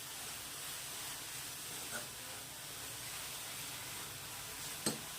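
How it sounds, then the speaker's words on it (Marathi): Prawns sautéing in a pan give a soft, steady sizzle with faint stirring scrapes and a brief clink near the end, all quiet and close. "आता याला फिरवून घ्यायचं असं छान असं परतून घ्यायचं मिक्स करून घ्यायचं आहे"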